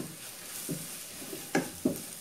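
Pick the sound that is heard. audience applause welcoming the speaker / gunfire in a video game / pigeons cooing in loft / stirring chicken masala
stirring chicken masala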